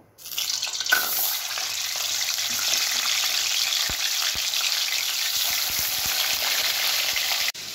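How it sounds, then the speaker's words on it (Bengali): Tilapia pieces sizzle and fry in hot mustard oil, a loud, steady crackling hiss that starts abruptly and holds throughout, with a few soft clinks of utensils near the end. "আমি সরষের তেল গরম করে নিয়েছি, এবার আমি মাছগুলোকে একে একে ছেড়ে দেব"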